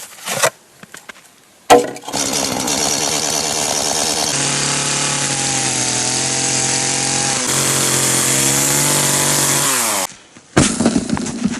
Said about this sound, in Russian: Топором баловаться не будем, сразу бензопилой.